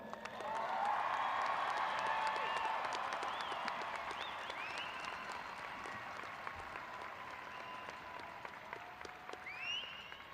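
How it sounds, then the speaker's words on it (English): A university commencement crowd applauds at a spring graduation, with sustained, dense clapping and some scattered cheers and whoops, loud at first and then tapering slightly. "And I want to hear some more applause."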